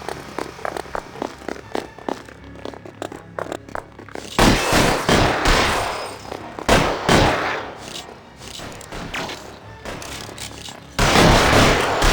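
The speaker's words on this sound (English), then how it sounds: "Guns." Gunfire in the crime video game L.A. Noire: a dense burst of loud, sharp shots and volleys near and far, preceded by quieter scraping and movement, with heavier crackling blasts returning at the end.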